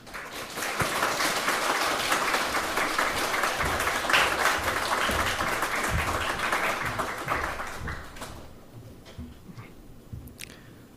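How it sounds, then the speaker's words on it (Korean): A church congregation at a Sunday worship service applauds warmly, a dense steady wash of clapping for about eight seconds that thins into a few scattered claps and fades. "우리 박수로 격려해 주셨으면 감사드리겠습니다"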